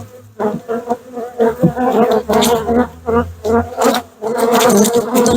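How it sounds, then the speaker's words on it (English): Dense buzzing of many honey bees swarming close around a hive, a loud continuous drone that swells and pulses throughout with no talking. "There's a good amount of bees in here."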